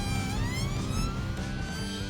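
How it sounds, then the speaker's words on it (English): Police traffic car siren wailing steadily, its pitch sweeping up and down over a rumbling engine and road noise, fairly loud and close, with no voices. "he drives around in this fantastic police car"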